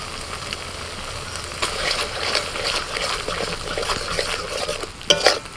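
Sour yogurt is stirred into a frying spice paste with ground poppy seed and cashew. A busy, wet sizzle runs under repeated scraping and stirring, ending with a couple of sharper clinks.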